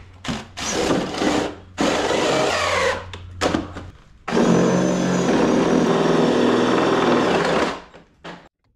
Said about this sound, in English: you got to drill those holes